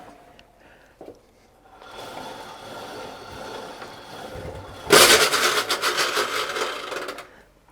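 A Mobylette moped engine under repair sputters as it is started, then breaks into a loud, rough, rattling run close by for a few seconds before cutting off.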